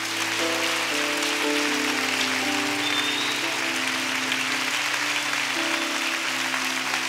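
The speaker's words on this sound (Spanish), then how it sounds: "Denle un aplauso al Dios de la gloria que está." Steady applause fills a church service, dense clapping running throughout over sustained organ or keyboard chords, with no voices rising above it.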